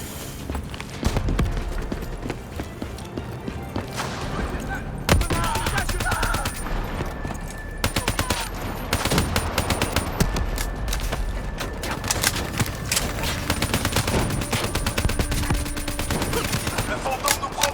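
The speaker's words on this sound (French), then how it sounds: "Attention à ces tirs." Sustained gunfire from the video game Call of Duty Black Ops 3, with dense bursts and scattered shots running through the whole battle scene, loud and constant, mixed with other combat noise.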